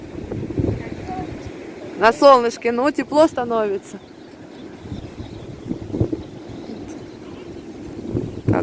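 Strong wind buffets the microphone outdoors with a low, gusty rumble that swells and fades, and someone speaks briefly over it.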